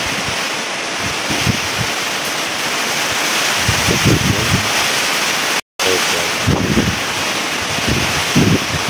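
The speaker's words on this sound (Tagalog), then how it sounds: "Iikot-ikot tapos biglang hahampas, ganun ang hangin, nakakatakot." Strong typhoon wind gusts roar across an island in Northern Samar at night, a loud continuous rushing with buffeting surges and heavy microphone wind noise, broken by a brief dropout midway.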